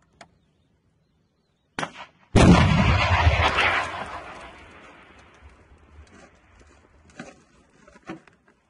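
A missile or gun is fired at Russian tanks: one loud, close blast with a long rumbling decay, preceded by a short sharp report, followed by faint scattered clatter and thumps.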